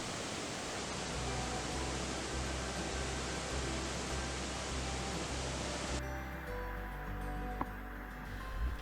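Mountain waterfall in a Uinta canyon rushes with a steady, dense broadband roar, loud and continuous, dropping to a softer, duller wash in the final seconds.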